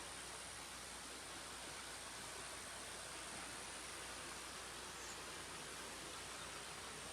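Water feature outside a house in Steamboat Springs, a steady broadband roar of falling water that stays loud and constant throughout, with no voices over it.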